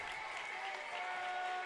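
Basketball crowd at a girls' regional championship game applauding and cheering steadily, a broad, sustained wash of clapping from a large audience.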